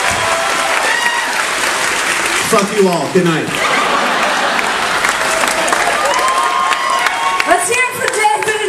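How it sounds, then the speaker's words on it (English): Loud audience applause and cheering at the close of a cruise-ship comedy show, sustained clapping with scattered laughter and whoops while someone briefly speaks over it near the start. "Alright, round of applause."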